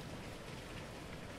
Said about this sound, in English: And it's beginning to rain!